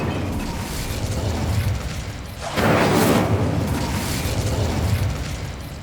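An Incendio fire spell cast in Hogwarts Legacy bursts out as a sudden loud whooshing blast midway, rising over a rumbling game background and then trailing off.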